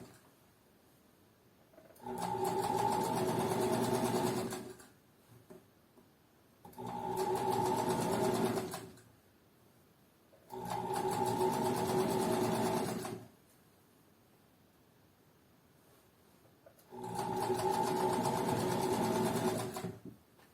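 A sewing machine stitching a pocket opening on a garment, running in four separate bursts of rapid, even whirring with quiet pauses between, close and clear.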